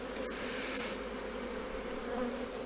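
Steady buzzing of bees at a hive being prepared for winter hums throughout, swelling briefly louder near the start as if a bee passes close, with no voices.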